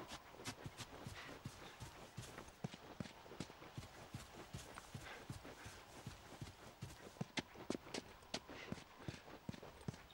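Horse hooves clip-clop in the video game The Last of Us. Sharp, steady hoofbeats come in a quick rhythm and sound fairly close. They continue throughout over a faint ambient background.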